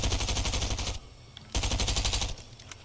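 Rapid automatic gunfire in a Fortnite shootout: two loud bursts of fast, evenly spaced shots separated by a short pause, close and with no talk over them.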